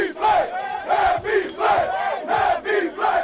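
Sports team celebrating with champagne after a win in the Cardinals' locker room, with loud, continuous crowd-style cheering and shouting in rising and falling waves.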